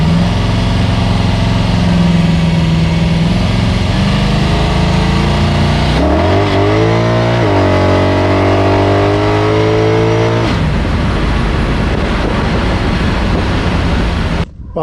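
A 302 HO small block Ford V8 idles loud and close while running a little lean, its rough steady rumble rising in a brief rev midway before settling back to idle.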